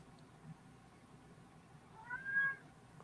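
A pet cat gives a single faint, drawn-out meow against a quiet room hiss, with no talking during it.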